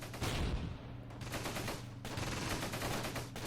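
Distant small-arms gunfire in the World War II strategy game Close Combat: Gateway to Caen, with faint scattered shots and bursts crackling steadily under a low battlefield rumble.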